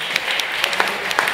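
An audience at a folk music school presentation applauds, a short burst of dense clapping at close range.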